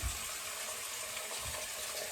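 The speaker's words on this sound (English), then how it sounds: "So running the water, as I said, I'll pop in the stopper and let it all fill up." Tap water runs steadily into a bathroom sink with the stopper in, a continuous close splashing rush as the basin fills.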